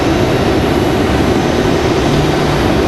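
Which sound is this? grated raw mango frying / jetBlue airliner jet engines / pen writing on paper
jetBlue airliner jet engines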